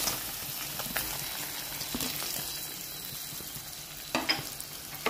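Bitter gourd, mango and potato curry being stirred in a pan makes a continuous dry sizzle with soft scraping strokes and a louder clatter near the end, with no talking.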